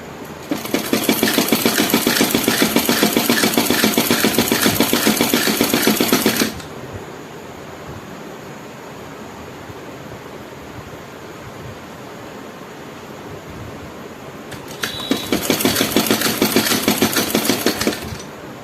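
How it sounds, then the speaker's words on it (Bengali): A sewing machine stitches a half-inch seam on palazzo pants in two bursts. The first is a long, fast, even rattle, followed by a quiet pause and then a second shorter run of close, loud stitching. "সেই 1/2 ইঞ্চি রেখেই আমি সেলাই করে নিচ্ছি"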